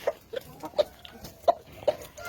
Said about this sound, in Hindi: बहुत ही खूबसूरत और आला नस्ल की मुर्गी माशाल्लाह।